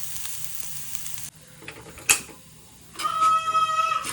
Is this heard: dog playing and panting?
no